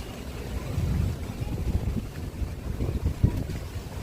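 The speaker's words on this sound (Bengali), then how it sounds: "খুব সুন্দর হাওয়া দিচ্ছে" Wind gusts across a home balcony with plants and an amla tree as rain approaches, a continuous rumbling buffet of air with irregular swells, close and fairly loud, no talking.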